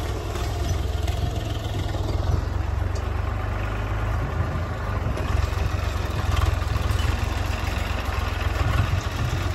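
A tractor engine runs steadily in a farm field during ploughing, a continuous mid-low drone with a slight rhythmic throb, fairly close and with no one speaking.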